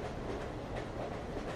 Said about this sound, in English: The hum and resonance of the train are very soothing to you,